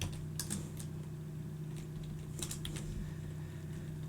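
Clicks from a computer keyboard come in short bursts of keystrokes with pauses between them, close and moderately loud over a steady low hum of equipment; no voices.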